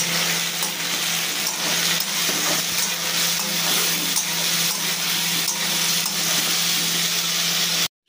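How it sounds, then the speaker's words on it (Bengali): Potatoes and onion stir-fry with spices in a pan, a steady loud sizzle with scraping stir strokes throughout, ending abruptly. "আলু আর পেঁয়াজটা মশলা দিয়ে ভালো করে কষানো হয়ে গেছে"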